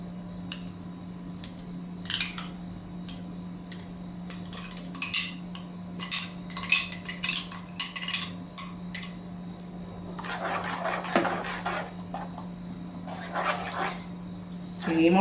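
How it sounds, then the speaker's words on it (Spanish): Chipa guasu batter with oil, sautéed onion and crumbled cream cheese being mixed by hand with a utensil, giving irregular scraping and clinking strokes close by over a steady low hum, with busier wet churning toward the end. "seguimos mezclando"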